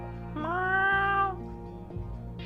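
A single drawn-out cat meow in the video game Windfall, clear and close, rising then holding steady for about a second over a low hum.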